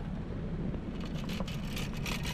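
Low steady road and engine rumble from a Honda CR-V being driven, with a faint whir and some higher hiss, even and continuous throughout.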